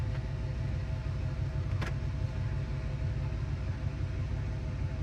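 The rebuilt engine of a 1940 Chevy truck idles with a smooth, steady low rumble, close and even throughout with no talk.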